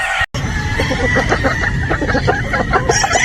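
Game fowl roosters, a Possum and Boston cross, cluck repeatedly in quick, close bursts, with an occasional crow rising among the steady farmyard calls.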